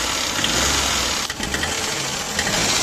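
A Mitsubishi turbo engine that ran low on oil knocks while running, a loud, rough continuous mechanical clatter close by with a few uneven bumps.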